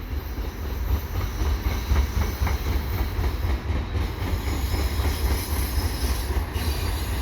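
Westbound CN freight train with auto racks rolling past at Falaise St Jacques, a steady loud rumble of wheels and rail clatter with a high thin squeal above it, continuous throughout with no talking.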